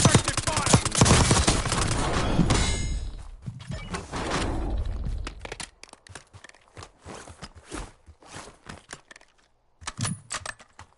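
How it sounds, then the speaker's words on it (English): Rapid automatic gunfire in a Warzone video game firefight, dense bursts of shots at first, then thinning into scattered, sharper single reports and short volleys further apart. "Taking effective fire!"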